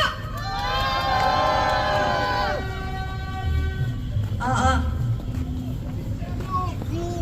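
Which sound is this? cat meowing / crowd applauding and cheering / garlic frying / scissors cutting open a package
crowd applauding and cheering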